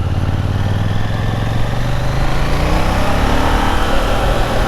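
KTM 890 Duke R motorcycle engine while riding on a rainy day, a loud, steady buzzing drone with rising pitch as it accelerates, close and continuous with wind noise and no talk.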